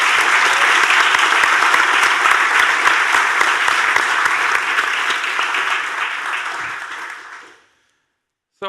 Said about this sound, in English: can you please give our panelists a warm applause?